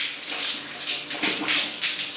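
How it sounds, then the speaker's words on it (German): A bathroom water tap in Java, Indonesia runs steadily with a hissing, splashing flow, the water spilling straight out underneath; close and continuous, with no voices. "wenn man hier den Wasserhahn anmacht. Kommt das Wasser hier unten direkt wieder raus."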